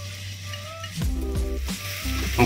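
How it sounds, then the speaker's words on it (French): Shallots sautéing in a little fat in a pan, a steady close sizzle with scraping stir movements and short clunks partway through. "On met un petit peu de gras. On fait revenir nos échalotes."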